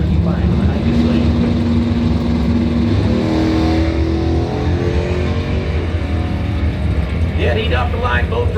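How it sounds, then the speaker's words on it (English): Drag racing cars, a 1971 Skylark and a 1979 Camaro, launch side by side with loud rising engine roars and climbing revs, with an announcer's voice heard over the noise. "Jim Evans, 71 Skylark, 878 your Woodstar Forestry Lane. There's an Alex Shields, 79 Camaro"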